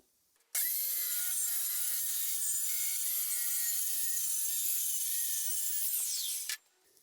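A power saw cuts a board for a shop cabinet along a clamped fence, one loud continuous whining cut of about six seconds that starts abruptly, holds steady, then drops as the blade winds down, with quiet before and after.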